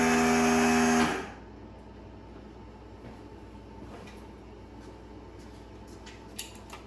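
Mercruiser Alpha 1 Gen 1 stern drive trims up on its switch: a loud, close electric motor whine runs for about a second and cuts off, followed by low background noise with a faint click near the end.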